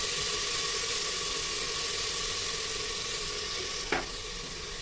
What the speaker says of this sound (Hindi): अब इसको चलाएंगे, गोभी आलू और टमाटर अच्छे से इसको भूनेंगे